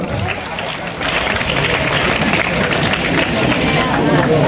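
Applause and crowd hubbub at a Republic Day programme of a primary school, greeting a student who took first place in an exhibition; dense, steady clapping rises after the first second and carries on loudly to the end.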